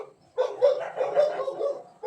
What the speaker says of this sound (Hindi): बाहर दोनों भौंक रहे, देखो एक दूसरे आमने सामने आ जाते हैं ना तो भौंकते हैं